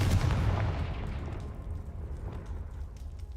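A Confringo spell explodes in Hogwarts Legacy with a heavy low boom up front. A long, softer rumble decays over the next few seconds, and nobody speaks.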